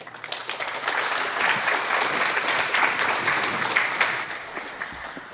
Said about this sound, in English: So, round of applause to yourselves.